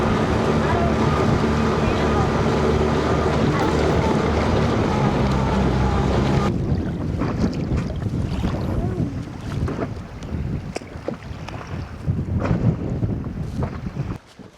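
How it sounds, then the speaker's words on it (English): Strong wind buffets the microphone on a small fishing boat out on the bay at Port Lincoln, a loud roaring gust that drops away partway, leaving lighter wind, water slaps and faint movement sounds. "The wind is picking up a little bit more"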